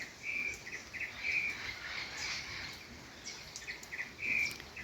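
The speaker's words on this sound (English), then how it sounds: "Mockingbirds, hummingbirds, banana quits somewhere around." Several small birds (mockingbirds, hummingbirds and bananaquits) chirp and whistle nearby, with a few bright, clear notes standing out among softer calls over faint background ambience.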